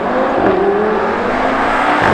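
A car drives along a road in Hong Kong, its engine and tire roar loud and continuous, with a steady broadband rush and a slight rise in pitch as it moves.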